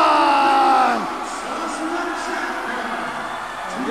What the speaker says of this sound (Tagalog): listen to the crowd roar as the fans celebrating after that championship